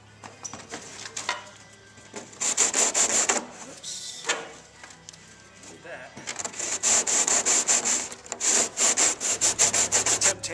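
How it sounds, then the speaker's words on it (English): An aircraft engine cowling is hand-sanded with repeated rasping strokes in close, rhythmic bursts that grow denser and louder toward the end, with brief quieter pauses between passes. "I've got some sanding to do here."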